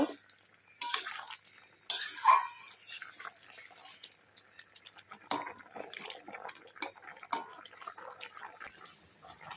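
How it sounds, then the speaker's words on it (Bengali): A vegetable curry of pumpkin, potato, lentil dumplings and drumsticks is stirred in a pot, with soft scattered clinks and wet scraping of the spoon against metal, fairly quiet and close. "ভালো করে এবার নাড়িয়ে চাড়িয়ে নেব"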